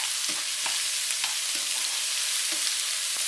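Green onion and ginger cook down in a pan, sending up a dense, even hiss of frying with faint stirring taps throughout, close and without talk.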